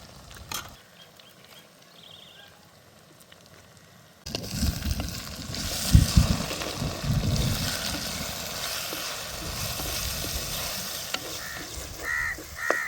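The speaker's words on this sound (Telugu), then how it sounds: "ఇప్పుడు ముందుగా కడిగి కట్ చేసి పెట్టుకున్న గోంగూరని నూనెలో వేస్తాను." Washed, chopped gongura leaves frying in hot oil for a village-style fish curry, a steady sizzle starting abruptly partway through after a quiet opening, with faint crow caws in the background.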